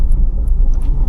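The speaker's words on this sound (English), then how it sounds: "Now I'm going to heel and toe it." A manual car's engine rumbles low and loud during a heel-and-toe downshift, a brief throttle blip close to the microphone with no talking.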